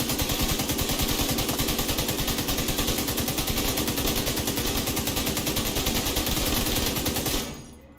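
Sustained rapid automatic gunfire from a raid build in The Division 2, loud and close, a dense unbroken stream of shots for about seven seconds before cutting off abruptly.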